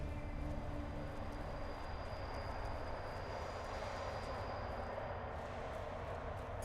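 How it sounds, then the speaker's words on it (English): Train in the video game Fallout: New Vegas, a steady low rumbling drone with a faint high whine that cuts out near the end, heard alone at moderate loudness. "Sounds like a train."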